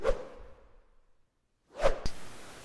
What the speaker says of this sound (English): The most inexcusable and disgraceful of all noises is the cracking of whips